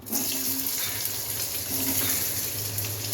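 Potatoes dropped into hot oil in a pan for a dry fried small-fish dish, giving a steady, broad sizzling hiss that stays close and even throughout, with faint background hum and no talk.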